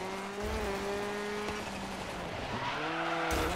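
A car in the Dirt 5 racing game slides through sharp turns on the handbrake. Its engine drones, rises and falls in pitch, and tire squeal accompanies it, steady and fairly close.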